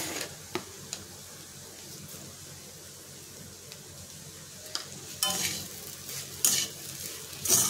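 Potato and pea filling with kasuri methi and salt being stir-fried in a pan: a soft, continuous sizzle broken by scraping stirs and louder clatters of the spoon against the pan near the end, with no talking.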